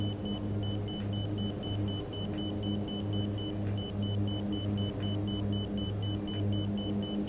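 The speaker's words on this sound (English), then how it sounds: "What are we beeping for?" A steady, repeating electronic warning beep from a plane in Microsoft Flight Simulator, pulsing evenly above a constant low engine rumble and cockpit drone.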